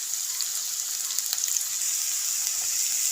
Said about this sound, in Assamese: এতিয়া এইখিনি ৰঙচুৱা নোহোৱালৈকে আমি ভাজি থাকিব লাগিব